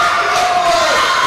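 Crowd at a youth ninja competition roaring and cheering loudly, a dense sustained wall of shouts and whistles, close and unbroken.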